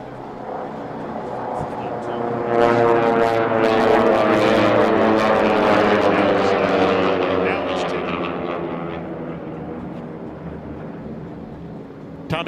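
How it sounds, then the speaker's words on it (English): Several air racing planes at a national championship air race pass loudly, their 9-foot Hamilton Standard propellers with tips going supersonic, a drone swelling to a peak mid-pass and fading, with commentary talk over it. "Listen to the tips of those 9-foot Hamilton standard props going supersonic."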